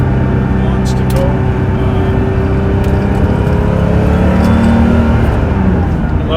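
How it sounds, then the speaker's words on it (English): A 1986 Porsche 930 Turbo pulls hard in second gear at around 70 mph, its engine note droning steadily and loudly under wind and road roar from inside the cabin, with a person talking over it. "So it's 70 miles an hour in second gear and"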